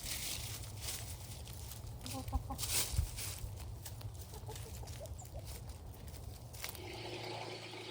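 Free-range chickens forage and cluck softly in an outdoor yard, a steady low murmur of small clucks with a few sharper calls, mixed with faint background voices and ambient noise.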